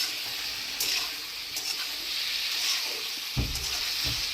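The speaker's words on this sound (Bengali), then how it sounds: "অনেক সময় ধরে সাঁতলাতে হবে।" Cumin powder and spices sautéing in oil for a koi fish curry with potato and cauliflower, giving a steady, moderate sizzle with a couple of soft stirring knocks near the end.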